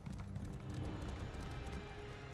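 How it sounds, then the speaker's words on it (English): A horse's hooves clip-clop in a steady trotting rhythm inside a video game, soft and fairly quiet over a low ambient background. "there's a horse over here"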